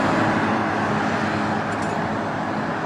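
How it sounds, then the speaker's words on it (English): Steady broadband roar of traffic on a busy country road near Ninfield on Pevensey Marsh before 7 a.m., cars and buses passing continuously and fairly loud. "the traffic's beginning to build up"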